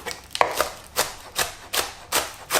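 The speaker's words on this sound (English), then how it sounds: "Now let's cut the other vegetables." A knife cuts snow peas and green onions on a board in roughly even strokes, about six crisp chops over a couple of seconds, close and clear with no talking.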